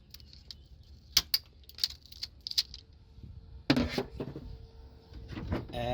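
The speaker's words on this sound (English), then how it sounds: "So I'm gonna start by cutting all the tie straps that it has right here." Plastic tie straps being snipped off a Freightliner Cascadia truck's coolant reservoir, a few sharp clicks and snaps up close followed by rustling handling noise, with no talking.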